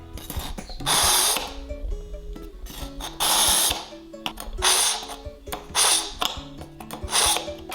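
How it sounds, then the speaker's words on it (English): A kitchen knife sharpener grinds as blunt knives are pulled through it in repeated harsh, scraping strokes, about six bursts with short pauses between them, loud and close with no talking. "Once you've sharpened your knives, it says to like pull it through 3 or 4 times"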